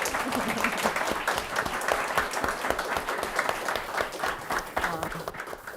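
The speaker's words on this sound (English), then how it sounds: "let's just start with a round of applause for these fantastic women here." An audience at a public health talk applauds a panel of women with sustained, dense clapping that stays loud and steady, a mass of overlapping hand claps filling the room.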